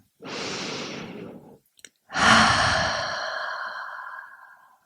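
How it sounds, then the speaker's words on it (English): Two slow, deep breaths sound close and alone: a long inhale-like rush, a short pause with faint clicks, then a louder, drawn-out exhale that tapers gradually, calm and unhurried. "Take a few deep breaths in and out."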